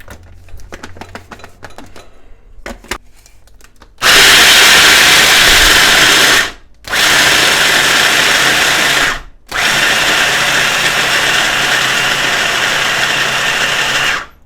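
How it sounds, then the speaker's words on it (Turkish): A blender grinds peanuts into peanut butter, loud steady whirring in three long bursts with short pauses between, preceded by quieter clattering and handling sounds. "bunu yaptıktan sonra blenderımızı başlıyoruz çalıştırmaya"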